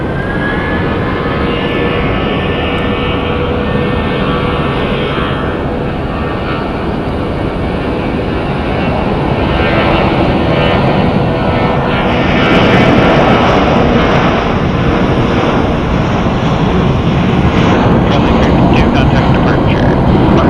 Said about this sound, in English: It's a tiny plane but mighty loud.